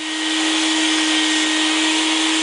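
A dustless drywall sander runs with its vacuum pulling up dust, a steady loud motor whine with a strong constant hum, continuous and alone for the whole stretch.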